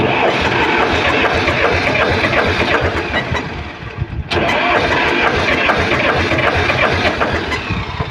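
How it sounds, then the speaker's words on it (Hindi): A tractor's diesel engine running loudly and steadily with a rough, clattering knock throughout, dipping briefly near the middle before resuming at full strength. "इंजन से कुछ साउंड भी, नॉकिंग भी आ रहा है"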